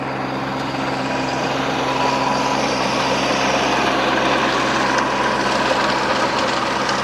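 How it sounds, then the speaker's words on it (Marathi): A tractor driving between seven-foot field furrows, throwing soil aside as it goes, a steady loud engine drone with rough mechanical churning close by, continuous throughout with no speech. "सरीच्या मधनं ट्रॅक्टर चालतोय बघा"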